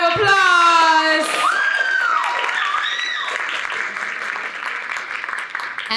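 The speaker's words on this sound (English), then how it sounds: "Let's give them another round of applause." A school audience at an oratorical contest and art competition bursts into loud applause, opening with shouted cheers and whoops before settling into sustained, dense clapping that carries on for several seconds.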